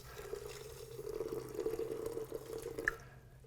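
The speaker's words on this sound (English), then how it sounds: "And we're going to go ahead and add some water." Water poured steadily into a machine's reservoir up to its minimum fill line while preparing a dog's anti-anxiety mixture, a continuous close trickle that ends abruptly.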